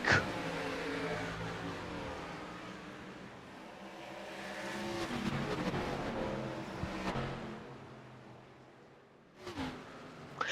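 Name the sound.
race cars starting a race at Darlington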